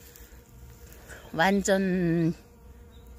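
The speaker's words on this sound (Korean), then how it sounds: "한 송이에 꿀벌들이 세 개, 네 개씩 들어가서 있어요" Honeybees buzz around flowers in a garden farm, a soft background hum with a louder close pass in the middle, while a person's voice briefly speaks.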